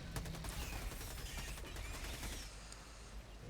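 Rapid gunfire in the video game Helldivers 2, a dense stream of sharp shots rattling continuously over a loud battle background, easing slightly toward the end.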